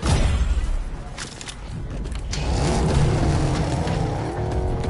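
A car in Fortnite drives along with a steady engine roar and rolling tire noise, loud and continuous, swelling and building in intensity partway through as it accelerates.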